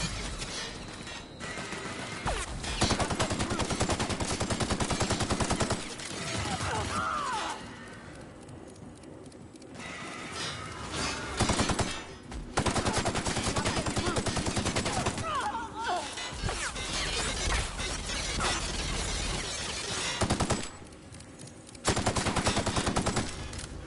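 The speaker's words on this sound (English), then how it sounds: "Am I getting shot though?" Sci-fi game gunfire in The Outer Worlds, long bursts of rapid automatic shots and a dense barrage that break off into quieter pauses, then resume loud and close, with a voice speaking briefly in between.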